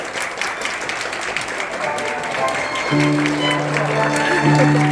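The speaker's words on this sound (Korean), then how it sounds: "내빈 여러분들 큰 박수로 우리 양서하 양을 모셔보도록 하겠습니다" Wedding guests applaud steadily at moderate volume, and sustained music tones come in partway through under the clapping.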